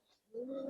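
Close, soft cooing from giribaz and coloring pigeons, a brief swelling, rolling coo that starts after a quiet moment.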